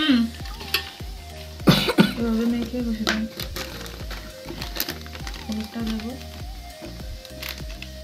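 Marinated poultry meat sizzles and is stirred in a hot pan, with steady frying crackle under scraping stir strokes and a brief cough or throat noise partway through.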